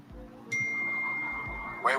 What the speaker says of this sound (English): he just sent a text message